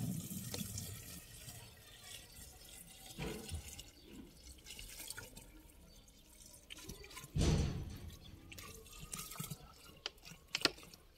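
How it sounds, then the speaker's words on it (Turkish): Leftover water is poured into a bottle while planting tomatoes, giving soft splashing and trickling with a louder gush near the middle, close by and without talk. "Kalan suyu da şişenin içine boşaltalım."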